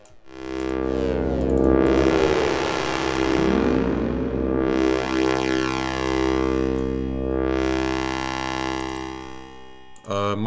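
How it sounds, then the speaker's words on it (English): A rich, distorted tone from the Odin 2 software synthesizer sweeping up and down, its notes trailing into repeating delay echoes that smear across the sound. "And let's add some delay as well."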